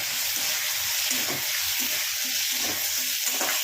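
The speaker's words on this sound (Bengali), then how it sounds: "এই সময় আমি এতে ছোট ছোট করে কেটে রাখা আলু, এটাকে একটু ভেজে নিই।" Small-cut potato pieces fry in a pan for a pumpkin and fenugreek curry, a steady sizzle running throughout while a utensil stirs them in repeated soft scraping strokes, close and alone with no talking.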